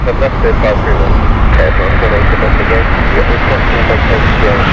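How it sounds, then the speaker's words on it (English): An Air France Airbus A220 airliner at Heathrow Airport gives a steady, loud engine roar throughout, with someone talking over it. "you've got an A220 inbound as well from the beautiful Air France"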